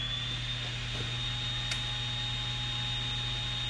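A newly finished Artisan lathe's motor runs steadily after being switched on, with an even mechanical hum, a high whine and a few faint clicks, with no talk.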